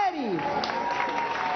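Applause at a street rally during a march for Palestine in Caracas, a steady crowd clapping beneath a loud voice and tonal background sound for the whole stretch.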